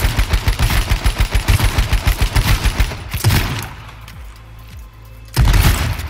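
Rapid automatic gunfire in the online shooter H1Z1: a long, steady stream of loud, evenly spaced shots, then a brief lull with scattered distant pops before another heavy burst at the end.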